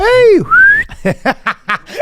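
A person mimics a construction worker's wolf whistle: a rising-then-falling whistle followed by a long upward glide, then a run of short voiced chuckles or laugh-like bursts, all close and loud.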